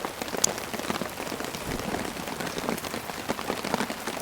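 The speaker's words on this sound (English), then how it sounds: "The rain's falling heavy." Heavy rain falls steadily on a camping tent in a storm, a close, constant hiss and patter of drops that keeps going without pause, with no voices.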